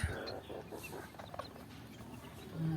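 Buff Sebright chickens, a running pair of one male and three females, cluck softly and intermittently at close range over a low background rumble.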